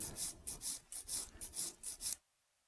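An acrylic nail being filed down by hand, with about ten quick rasping strokes in a steady back-and-forth rhythm, close and fairly quiet, before the sound stops abruptly.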